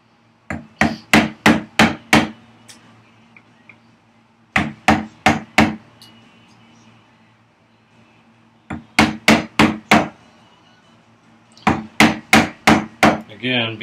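Mallet strikes on a chisel cutting into waste wood while making workbench vise chops, four bursts of about five sharp, evenly spaced whacks each, close and loud, separated by brief quiet pauses.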